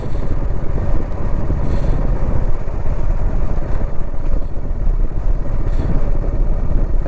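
Steady motorcycle engine drone while riding on a country road trip through Purulia, a continuous mid-pitched rumble with wind noise, loud and close throughout, no talking.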